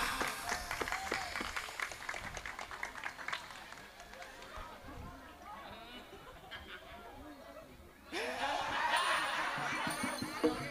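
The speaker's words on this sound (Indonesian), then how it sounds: "Tepuk tangan Mas buat wayang original." An audience at an original wayang performance breaks into a swell of applause near the end, following quieter chatter and a voice speaking over the crowd.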